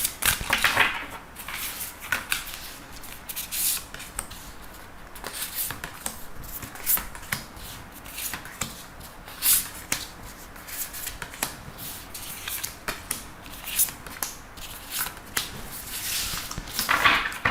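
A deck of tarot-style cards being shuffled for a card reading draw, with repeated papery riffles and soft flicks continuing steadily at close range and no talking.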